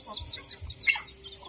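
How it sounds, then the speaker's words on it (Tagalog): A single short chicken cluck rises out of a quiet chicken pen on a small farm, with a few soft low thumps before it and nothing after. "Ito yung ating mga manok oh."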